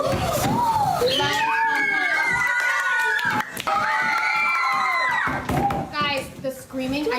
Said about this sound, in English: Guys, the screaming, I know you're excited.